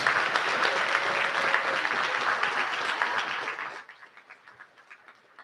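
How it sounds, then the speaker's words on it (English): Audience applause for a school band and color guard at a high school graduation ceremony, dense clapping that holds steady, then fades quickly near the end into a quieter room. "give a big round of applause to our DMHS band and our color guard"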